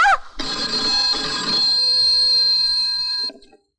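A telephone rings indoors with a sustained, loud electronic trill that holds steady for about three seconds and then cuts off abruptly, with no talking over it.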